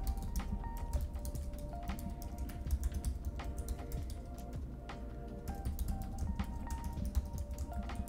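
Fingers type an email address on a computer keyboard in quick, uneven bursts of close, quiet key clicks that continue throughout.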